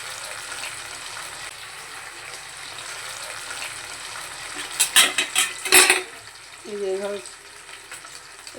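Paneer frying in a pan gives a continuous soft sizzle, broken by a couple of louder bursts of spatter and scraping near the middle, then a brief clink of utensils.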